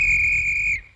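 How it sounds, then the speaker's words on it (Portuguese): A shrill cartoon whistle blown once as a call for help, a steady high piercing tone with overtones held for most of a second before cutting off, loud and alone without talk. "Está vendo esse apito? Bem, se o lobo aparecer, é só apitar assim."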